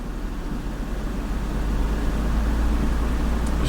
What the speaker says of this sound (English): It's just gonna rev up to like 1100 RPMs